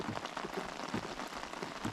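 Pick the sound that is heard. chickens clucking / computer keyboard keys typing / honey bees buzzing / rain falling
rain falling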